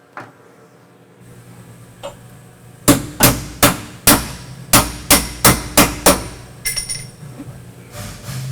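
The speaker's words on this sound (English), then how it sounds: "So that way I can hammer and dolly it without it cracking or anything like that." A hammer and dolly strike a TIG-welded steel car body panel in a fabrication shop, a run of about ten sharp, ringing metallic blows at a steady rhythm after a few lighter taps, loud and close.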